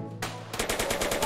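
Gunfire in the GTA video game: a single sharp shot followed by a rapid burst of repeated shots, loud and close, with no talking.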